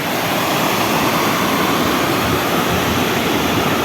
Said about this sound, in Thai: นี่เป็นบรรยากาศน้ำตกแม่กลางที่ ไหลจกไหลลงจากเขามา